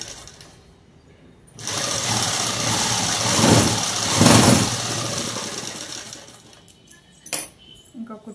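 A sewing machine stitches a Prince-cut model dress, running loud and steady for several seconds after a quiet start, with a brief burst of motor sound near the end.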